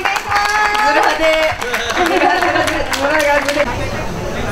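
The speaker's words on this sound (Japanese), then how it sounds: "皆さん最後に大きな拍手をお願いします。" An audience at an evening horse-racing prediction event gives a round of loud, dense applause mixed with crowd chatter, fading slightly toward the end.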